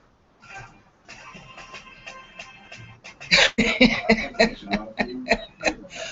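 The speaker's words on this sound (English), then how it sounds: "That nasty cough." Repeated harsh, rasping coughs come in a rapid series of loud bursts, close up, after a quieter stretch of throat sounds.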